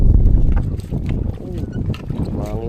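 Strong wind buffets the microphone aboard a small boat heading home after a crab-catching trip, a loud gusty roar that swells and eases, with faint voices speaking underneath.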